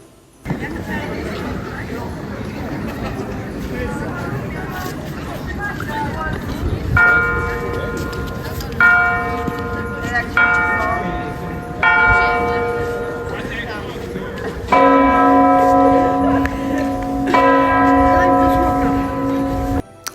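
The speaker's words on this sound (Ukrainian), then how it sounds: "Під час нашої прогулянки пролунав дзвін, оголосивши початок церковної служби." A church bell in Kraków rings to announce a church service. Several clear, resonant strikes sound in spaced groups over steady outdoor crowd chatter and a voice.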